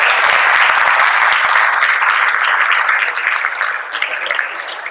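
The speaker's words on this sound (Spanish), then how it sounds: "yo quiero ya un aplauso" An audience applauds at a lecture on the poet Ausiàs March, a dense, loud crowd of clapping that holds steady, then thins and softens near the end.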